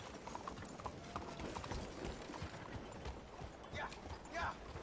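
Horse hooves clip-clopping at a steady trot in Red Dead Redemption 2, a dense rhythmic stream of close hoof beats with voices talking over it.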